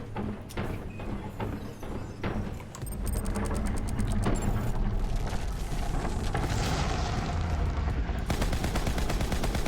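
Moze's gun in Borderlands 3 fires long, rapid sustained bursts with little pause, loud and continuous over a busy combat background with metallic clatter, no voices.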